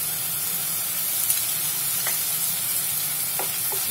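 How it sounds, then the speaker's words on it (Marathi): Onion browned to pink, sautéed with ginger-garlic paste for pav bhaji, a steady hissing sizzle close by, with a few faint clicks of a stirring spoon. "आलं लसूण टाकल्यानंतर आपण एक दोन मिनिटं परतून घेतलंय"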